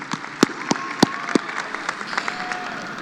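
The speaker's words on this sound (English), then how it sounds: "give another round of applause to Dr. Martinez" Audience at a high school graduation ceremony applauds, a crowd of clapping with several sharp, close individual claps punctuating it, fairly loud and tapering slightly toward the end, with no talk.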